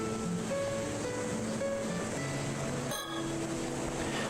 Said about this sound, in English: This wide beach lies on the southeastern side of the island. It's blanketed by the sound of waves.